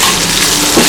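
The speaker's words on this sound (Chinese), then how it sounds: "蒜、辣椒酱， 给它炒香。" Garlic and chili sauce frying in a wok give a loud, steady sizzle with a faint stirring scrape, lasting under a second with no talk.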